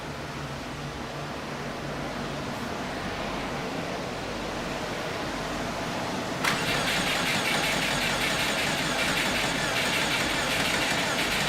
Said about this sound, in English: That was a long crank.